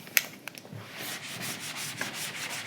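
A duster rubs writing off a lecture-room board in quick, scratchy strokes: a few sharp taps at first, then repeated rasping swipes at moderate loudness, with no talking.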